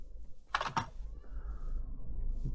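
A short double meow from a cat in a Minecraft-style video game, close and brief, followed by low game ambience and faint clicking.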